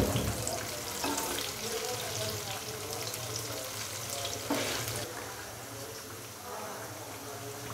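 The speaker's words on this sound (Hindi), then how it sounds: "पकौड़ों को मैंने फ्राई होने के लिए घी के अंदर डाल दिया है।" Potato and spinach pakoras frying in ghee over a medium-low flame, a steady hissing, bubbling sizzle with a few brief louder surges.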